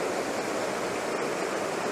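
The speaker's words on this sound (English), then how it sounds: "Yes, as you can see, lots of water coming down here today." A Dartmoor waterfall swollen after rain pours in a dense, steady rushing roar, continuous and fairly close, with no voices.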